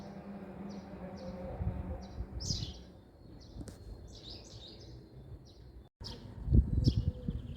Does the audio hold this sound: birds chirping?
yes